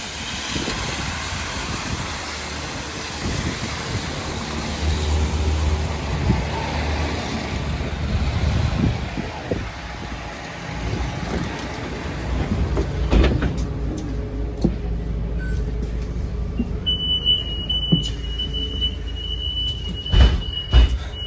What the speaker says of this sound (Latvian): Tagad mēs atrodamies L riteņos, 24. autobusā.